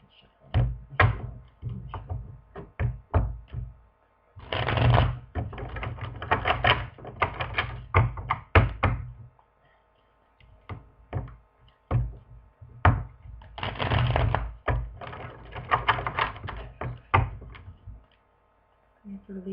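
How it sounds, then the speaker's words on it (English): Tarot cards shuffled by hand at close range: bursts of riffling and quick flicking slaps in clustered rhythms, separated by short pauses, with a voice talking faintly in places. "I need to shuffle."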